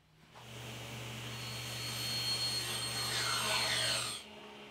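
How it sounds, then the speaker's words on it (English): A table saw cuts a board stood on its end. The motor hum rises, then a loud, steady whining rip runs through the wood for several seconds and stops abruptly as the cut finishes. "I'll turn the board on its end and make this cut next"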